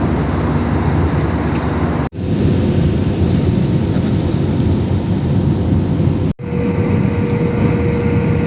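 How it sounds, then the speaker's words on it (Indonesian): Airplane cabin after landing as the aircraft rolls to a stop: a loud, continuous engine and airflow roar, broken twice by abrupt momentary cuts to near silence. "Pesawat ini telah berhenti dengan sempurna"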